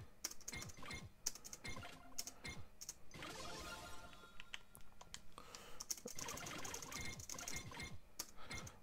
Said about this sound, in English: You just can spam the space bar.